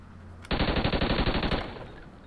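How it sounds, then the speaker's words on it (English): A video-game sentry gun opens fire in a free-for-all match, a loud, rapid automatic burst of evenly spaced shots lasting about a second before trailing off. "We'll take a sentry gun."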